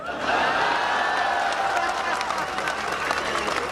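Audience at a Hindi comedy poetry gathering (hasya kavi sammelan) breaks into loud, sustained applause with scattered cheers, a dense wash of clapping filling the whole stretch.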